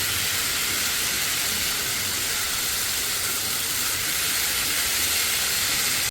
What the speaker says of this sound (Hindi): ये देखिए आवाज़ आनी शुरू होगी मॉइस्चर की